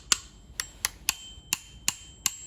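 Seven sharp, bright metallic strikes ring from the bell of an old 1987 microwave oven, evenly spaced and close, each with a short ringing decay.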